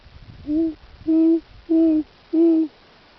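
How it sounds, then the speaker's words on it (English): Owl hooting outdoors near nesting birds, four distinct steady hoots evenly spaced about half a second apart, clear and fairly close against a quiet background. "There's an owl right over here."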